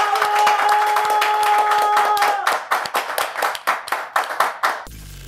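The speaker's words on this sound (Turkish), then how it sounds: "kocaman alkışların en güzelini sana gönderiyoruz" Audience applause at a rap show: a wash of clapping over a sustained musical tone gives way to separate, uneven clusters of handclaps that thin out and stop abruptly.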